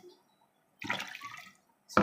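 Water poured into a container to dissolve dishwashing liquid ingredients, a short close splash lasting under a second followed by a brief second gush.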